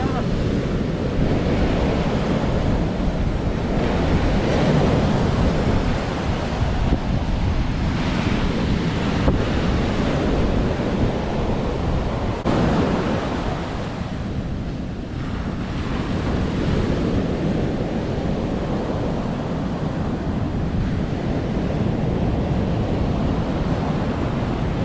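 Ocean swell rolls and breaks on a shore at night, a loud continuous wash of surf with gusty wind buffeting the microphone throughout, rising and easing in long surges.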